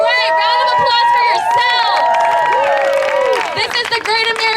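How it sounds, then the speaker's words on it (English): A crowd at a Common Sense Party political rally with Andrew Yang in San Francisco cheers loudly, with whoops, shouts and clapping blending into a continuous roar that eases slightly near the end. "Round of applause for"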